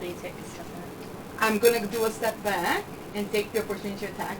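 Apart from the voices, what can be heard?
None of the usual background noises is heard.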